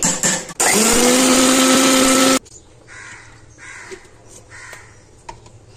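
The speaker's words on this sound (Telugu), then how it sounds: "దీంట్లో కొబ్బరి పౌడర్ యాడ్ చేసి మిక్సీ పట్టుకున్నాము" Mixer grinder whirring loudly for under two seconds as it grinds coconut powder into a paste, then cutting off, leaving crows cawing in the background.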